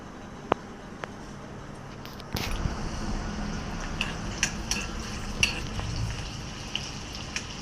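Onion, chili and garlic hit hot oil for a kudya-pod vegetable dish. A few light taps come first, then a steady, close sizzle with scattered clicks and stirring scrapes.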